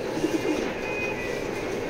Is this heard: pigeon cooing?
yes